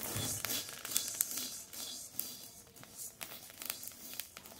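Rice being stirred and dry-fried in a pan for puffed-rice moa with jaggery, a faint continuous rustle and patter of grains shifting, with small scrapes as they are turned.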